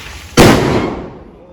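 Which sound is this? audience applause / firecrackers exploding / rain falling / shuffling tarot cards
firecrackers exploding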